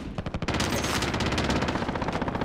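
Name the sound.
gunfire in Call of Duty Warzone video game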